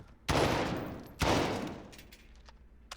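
Gunfire from a first-person shooter video game fired from the hip, heard as two loud, sharp bursts about a second apart, each trailing off in a long echoing decay, with no talking.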